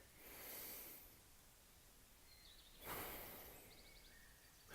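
A slow, deliberate breath drawn in through the nose during meditation, two soft airy inhales a couple of seconds apart, close and quiet in a still room.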